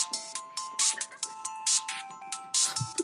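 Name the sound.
mobile phone ringtone ringing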